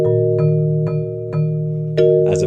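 A piano plays the intro of a song without its chord: sustained low notes with evenly spaced single higher notes struck about every half second, ending on a fuller cluster.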